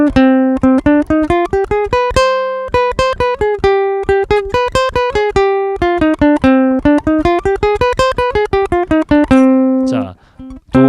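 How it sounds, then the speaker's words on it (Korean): Instrument ad-libbing up and down the C harmonic minor scale in a fast stream of clear, evenly spaced notes that climb and fall repeatedly for about ten seconds, with a brief noisy break near the end. "화성 다음계로 막 스케일 올라갔다가 내려갔다가 애드립 하면서 한번"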